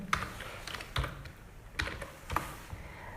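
Keys on a computer keyboard are tapped while a captcha is filled into an online application form, coming as a few separate close clicks and short bursts spread across about three seconds, with no talking.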